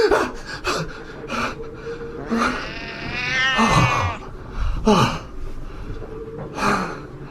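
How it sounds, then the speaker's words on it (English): A cat aboard a ship gives drawn-out yowling meows, close and fairly loud, with a voice speaking around it. "That damn cat of yours, get him out."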